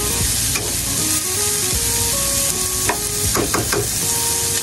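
Garlic fries in a hot pan with a dense, steady sizzle and spatter, broken by scraping stir strokes and a few sharp clicks, close and loud throughout.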